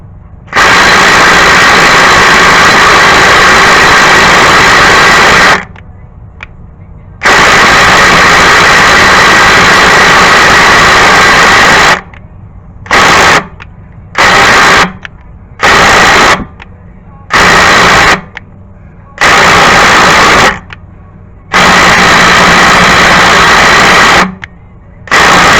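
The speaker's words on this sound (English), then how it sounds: "Ryobi 600 foot-pounds of torque brushless. It's a new tool to my toolbox." A Ryobi brushless impact wrench rated at 600 foot-pounds hammers on a 2.0L Hyundai Elantra engine during timing belt work, a loud rapid rattling that runs in long bursts, then short repeated pulses separated by brief pauses.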